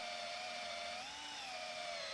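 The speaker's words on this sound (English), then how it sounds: "They sell to the DIY market, and they're certainly not disappointing with this drill." A Black & Decker DIY power drill whines steadily at high pitch, the motor's tone dipping and rising once partway through a continuous run, moderately close.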